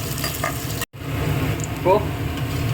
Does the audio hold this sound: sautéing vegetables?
yes